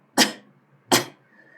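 Two sharp single coughs about three quarters of a second apart, close and clear in a quiet room.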